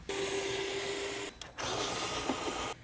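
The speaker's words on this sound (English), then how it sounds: "Next, we're using our 10mm socket to remove these 2 bolts here." Power ratchet with a 10mm socket whirring steadily as it backs out two bolts inside a Honda CR-V, two sustained buzzing runs separated by a short pause, close and unaccompanied by talk.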